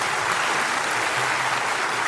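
Steady, dense applause from a large audience fills the whole stretch, loud and continuous without letting up, at a ceremony in Balasore where students receive gold medals in the presence of the President.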